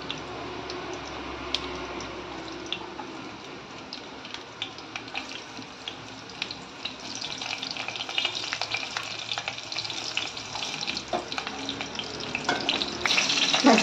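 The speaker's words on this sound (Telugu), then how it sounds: "ఆయిల్ కొంచెం మరిగాకండి పచ్చిమిరకాయలు ఒక 5 పచ్చిమిరకాయలు వేస్తున్నానండి" Five green chillies sizzle in hot oil for a fish dish, a continuous frying hiss that rises and grows busier toward the end, with occasional crackles and no talking.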